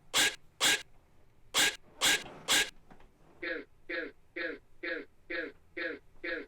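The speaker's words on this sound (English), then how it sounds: "this is offbeat hitting male breath sound and vocal chop." Five sharp, breathy male exhales hit in a loose rhythm, followed by eight evenly spaced chopped vocal stabs repeating on a steady beat.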